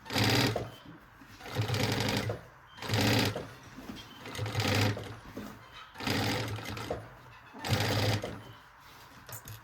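Sewing machine stitching a backpack and finishing with a backstitch, running in repeated loud bursts of rapid mechanical chatter separated by short pauses.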